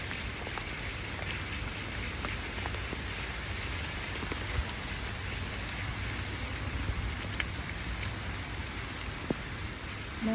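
Rain falling at a construction site in Antipolo City, a dense steady hiss of drops on surfaces with scattered sharper taps, constant and even throughout with no voices.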